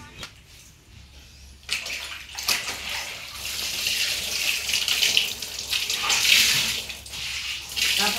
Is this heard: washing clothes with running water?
yes